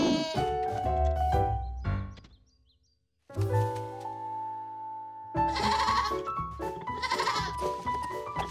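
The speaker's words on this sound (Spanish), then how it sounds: "cansando de perseguir cabras, Jorge" Cartoon goats bleating several times over a musical background, with bright, wavering calls that come in bursts, a short silent gap in the middle, and then more overlapping bleats.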